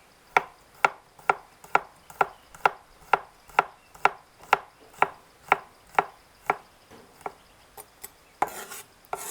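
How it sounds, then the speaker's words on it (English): Knife slicing shallots and garlic on a cutting board for a Thai chili fish sauce, a steady run of crisp, evenly spaced chops close up, slowing toward the end with a brief scrape. "We will begin with slicing shallots. And then move on to garlic."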